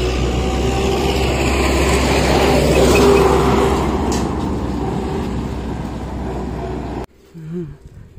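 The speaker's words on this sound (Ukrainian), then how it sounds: "Трактор чешет." A tractor drives past on a village road, its low engine rumble loud and close, then fading as it moves away before cutting off.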